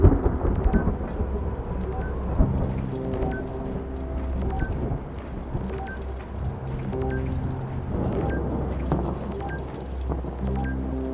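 A thunderstorm rumbles in the video game Return to Grace, low rolling thunder over steady rain with a faint repeating tone, continuous and moderately loud, no talk.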